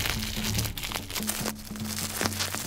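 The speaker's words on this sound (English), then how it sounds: "Plastic bag ASMR." Close, continuous crinkling and rustling of plastic, with crisp crackles and some low thumps as it is handled.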